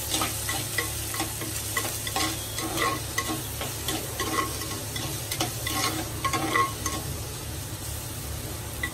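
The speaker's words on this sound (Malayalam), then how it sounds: "സവാള അരിഞ്ഞു വെച്ചത് ഇട്ട് കൊടുക്കാം" Chopped onions fry in a pan for a fish-free fish curry, a steady close sizzle with repeated scraping stir strokes cutting through, no voices.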